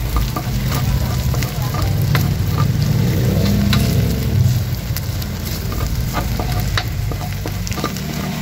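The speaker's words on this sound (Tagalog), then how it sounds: "Magigisa na tayo ng ating bawang." Garlic sautéing in a pan, a steady loud sizzle and crackle with occasional clinks of a utensil against the pan, continuous throughout.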